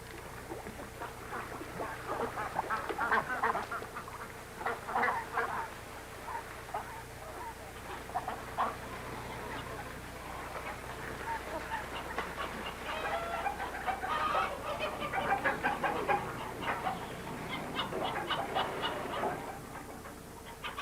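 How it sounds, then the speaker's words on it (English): Chickens cluck and crow in a busy outdoor farmyard with ducks, with scattered bird calls overlapping steadily and a low hum underneath. "Chickens and turkeys, ducks and geese stray along the riverbanks."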